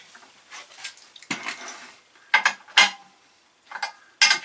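A wrench clanks and ratchets against the metal guide of a Feidwood F2550RD+ log splitter, a series of sharp metallic knocks and scrapes in uneven bursts, close and fairly loud.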